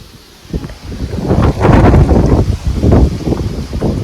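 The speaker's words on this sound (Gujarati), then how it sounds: "જેવો દરવાજો ફટ નહીં ખેંચાઈ દરવાજો કસ્તર એક નંબર તો નહીં હેવી પવન છે આજે" Heavy, gusty wind roars and buffets the microphone after a car door is opened, swelling into loud sustained rushes with brief lulls.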